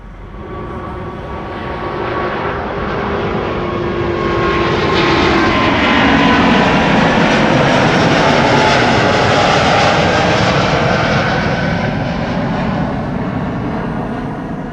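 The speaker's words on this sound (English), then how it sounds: "Delta Airlines Flight 161 to Minneapolis, Minnesota. A350" Delta Airlines Airbus A350 departing Amsterdam Schiphol, a loud jet engine roar that builds over a few seconds, peaks, then holds as a broad sustained rumble without talk.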